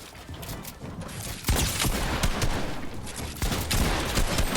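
Dense, loud bursts of automatic gunfire in a Fortnite match, with rapid overlapping shots and sharp reports at close range filling the whole moment.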